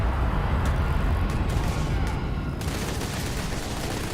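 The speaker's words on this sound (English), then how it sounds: "Got everybody in New Atlantis shooting at him now." Dense, continuous gunfire in the video game Starfield, with rapid overlapping shots in a New Atlantis firefight. It stays loud and steady throughout with no pauses.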